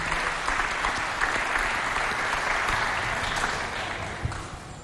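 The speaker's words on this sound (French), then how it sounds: "On l'applaudit très très fort." A French TV studio audience applauds warmly, a full, sustained burst of clapping that stays strong and even before easing off slightly toward the end.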